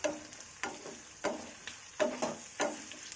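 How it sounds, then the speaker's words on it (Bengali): Fish being stirred in a frying pan: faint, quiet scrapes and soft clinks come in a regular rhythm about twice a second over a low background sizzle. "এটাকে ভালো করে নাড়তে হবে"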